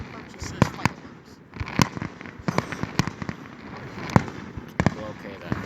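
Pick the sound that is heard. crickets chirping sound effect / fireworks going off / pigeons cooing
fireworks going off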